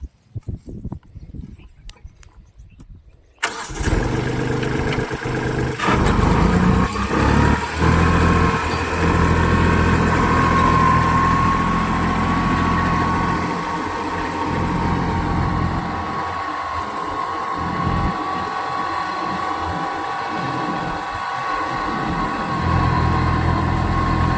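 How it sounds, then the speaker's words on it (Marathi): A steady tractor engine drone runs continuously after a short quiet opening, loud and close, pulling a wheat seed drill, with faint low knocks in the later part. "ट्रॅक्टर चालून बघू मागं कसं बुंडा पडते नक्की बघा"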